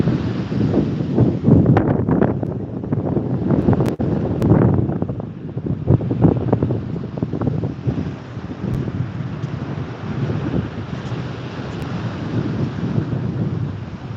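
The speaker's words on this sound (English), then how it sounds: "Cold wind." Cold wind buffets the microphone on a beach in January, a loud continuous roar with gusty surges and rumbling bursts, likely with surf in the background and no talking.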